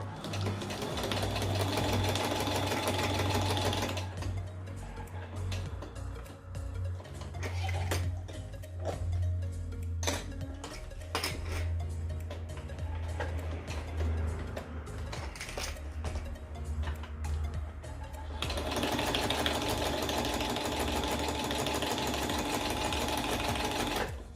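A sewing machine runs steadily, stitching fabric for a DIY shaker dashboard with clips pulled away from the needle, its fast mechanical hum loud and close, easing slightly mid-run before returning at full speed.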